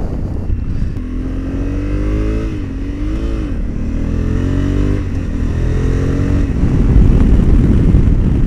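A 2021 Honda Africa Twin motorcycle on a race track, its engine loud and close, pitch rising and dipping through repeated gear changes and revs before a rougher surge near the end.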